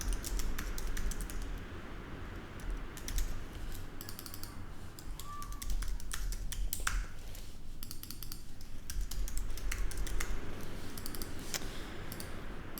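Text gets typed on a computer keyboard while designing in Figma: quick, uneven bursts of close key clicks with short pauses between runs, no voice over them.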